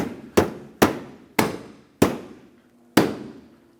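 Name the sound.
hitting stiff bumper cover clips into place on a Honda Fit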